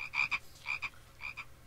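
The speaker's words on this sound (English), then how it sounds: "Got frogs and everything?" Minecraft frogs croak in three quick, evenly spaced bursts, each a short raspy double call, close and moderately loud against near silence.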